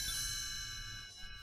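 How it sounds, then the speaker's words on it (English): A soft, bright chime rings out once and lingers with a shimmering decay, a quiet tinkling tone marking a page turn in a read-along storybook. "You will know when it's time to turn the page when you hear the chimes ring"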